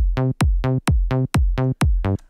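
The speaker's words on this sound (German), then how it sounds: "den ersten Bass eingefügt. Der hört sich so an." A deep synth bass in FL Studio repeating short, punchy notes in a steady rhythm, played alone, with a brief tail at the end.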